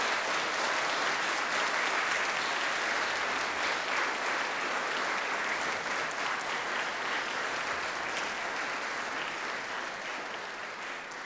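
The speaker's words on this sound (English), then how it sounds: "give them the loudest round of applause that you can give them" A graduation ceremony audience gives a long round of applause, a broad wash of many hands clapping that holds steady and fades slightly toward the end.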